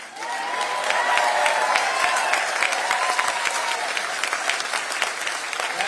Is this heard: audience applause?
yes